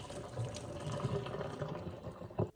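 Cooked pasta rinsed under running tap water, a steady splashing and gushing stream that continues throughout before tapering at the end.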